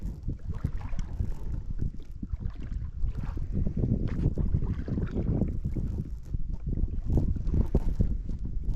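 Wind blows steadily over the water and buffets the microphone while someone fishes from a kayak, a continuous low rumbling gust noise with no speech.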